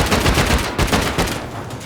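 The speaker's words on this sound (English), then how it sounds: "This is actually the Bombshell AK." Bombshell AK rifle fire from the game Rust rattles in rapid, loud bursts of close gunshots, with a brief pause between volleys during a base raid.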